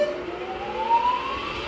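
A rebuilt Bridgeport J-head step pulley milling machine runs steadily on test, giving a continuous motor hum with a slowly rising whine, close and even throughout.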